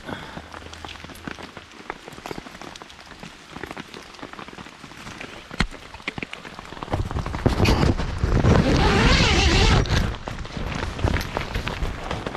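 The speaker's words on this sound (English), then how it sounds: "The rain's beading on the outside, which is good." Rain pattering on the fabric of a French Army F2 tent during a camping trip, a dense crackling patter that swells louder and heavier midway, then eases slightly.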